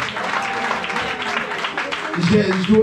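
A church congregation applauding, sustained clapping from a crowd heard under a voice speaking over it.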